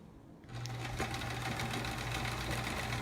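A sewing machine stitches along the edge of a cathedral quilt block, starting after a short pause and then running steadily with a fast, even mechanical whir and needle chatter, close and fairly loud, no talking.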